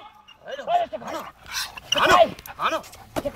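A Belgian Malinois at outdoor training gives several sharp barks and yips amid a handler's spoken commands, the bursts close and loud with short pauses between.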